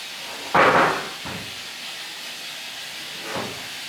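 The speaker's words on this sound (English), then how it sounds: "we'll put some more steam on these" Steam hisses in short bursts onto the knob bushings of an 1865 Forster & Andrews pipe organ under restoration, one loud blast followed by two softer puffs over a constant background hiss.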